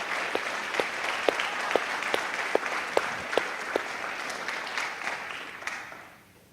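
An audience applauds steadily at a school event, a dense crowd of hands clapping with a few sharper individual claps standing out, then fading away toward the end.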